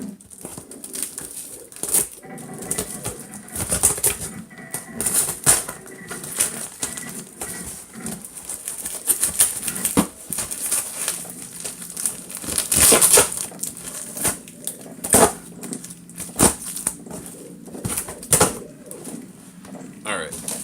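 A heavily taped package is torn open by hand, with loud, close crinkling, tearing and rustling bursts that keep coming in uneven rhythm throughout, and the speaker's voice is heard in places.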